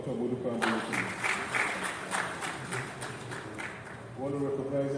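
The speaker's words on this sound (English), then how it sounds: "Round of applause for Dr. Modupe Hambulu." Audience applause for Dr. Modupe Hambulu at a Soya Coalition gathering: a burst of clapping from a seated crowd running several seconds, fading near the end as a voice resumes speaking over a room murmur.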